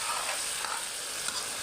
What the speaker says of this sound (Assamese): ভালদৰে লৰাই দিছোঁ।